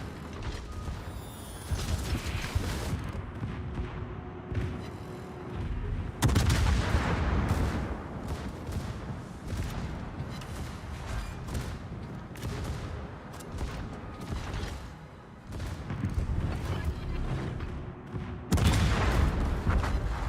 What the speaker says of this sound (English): I'm being shot at by a lot of things.